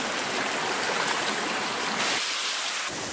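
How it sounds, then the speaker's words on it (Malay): Trumon waterfall and river water flowing, a steady close rushing roar of water with no pauses. "Kami udah sampai di air terjun Trumon"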